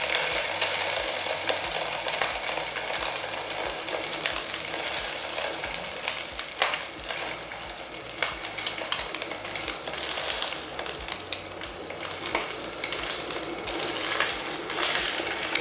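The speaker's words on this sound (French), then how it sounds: "Je vais tout d'abord faire saisir un petit peu le morceau de saumon." A piece of salmon searing in a tablespoon of fat in a pan, steady hissing sizzle with small crackles running continuously, close and moderately loud, no talking.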